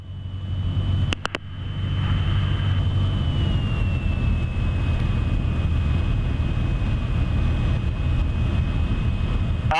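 Light aircraft engine droning steadily on final approach to land on an Elstree–North Weald flight, a constant loud cabin hum with a sustained high whine and a brief pair of clicks near the start.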